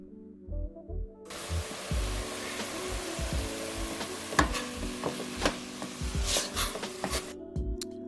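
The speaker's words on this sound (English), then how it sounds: "And then just throw everything in and let that sizzle." Bolognese ingredients sizzle steadily in hot olive oil in a pot, with crackles and sharp pops scattered through a dense hiss after a brief quiet start.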